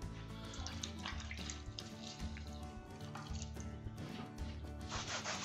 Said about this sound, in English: Keep rinsing the cloth off.